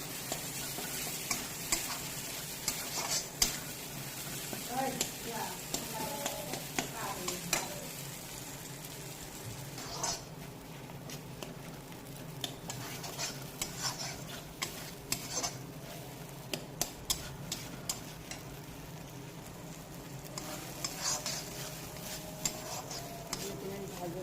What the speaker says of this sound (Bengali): তার মধ্যে মগজটা দিয়ে দেবো, দিয়ে ভালো মতো ভেজে নেব।